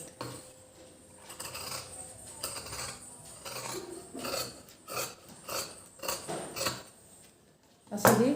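Scissors cutting blouse fabric along a marked line with a small seam margin: a steady series of close, crisp snips and rasping blade strokes, alone without talk.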